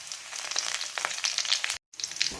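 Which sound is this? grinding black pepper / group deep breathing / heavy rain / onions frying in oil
onions frying in oil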